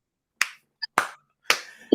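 Three sharp, close hand claps spaced about half a second apart, crisp and dry, with a faint tick between them and no talking.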